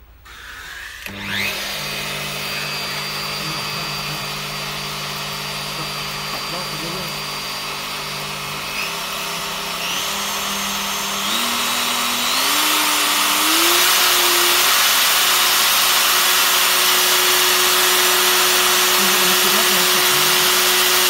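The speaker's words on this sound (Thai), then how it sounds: "เดี๋ยวผมจะมาลองติดเครื่องให้ดูนะครับฟังเสียงตั้งแต่รอบเบอร์หนึ่งเลยนะครับ" A Ryobi RP2301FC 1/2-inch 2100W wood router switches on with a sharp start and spins up, then runs with a loud steady whine whose pitch climbs in steps as the speed rises, close and continuous.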